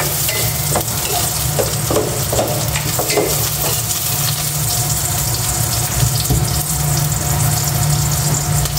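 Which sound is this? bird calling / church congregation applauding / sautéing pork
sautéing pork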